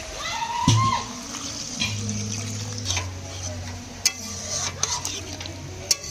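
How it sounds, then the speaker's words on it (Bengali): Water poured into a pan of potatoes that are cooking, with a brief splash and then a bubbling sizzle, followed by spoon scrapes and clinks against the pan, close by. "আচ্ছা, পরিমাণ মতন জল দিয়ে দেবো"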